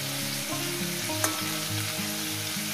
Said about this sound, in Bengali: দেখুন, ফুলকপিটাকে এইভাবেই ভাজতে হবে।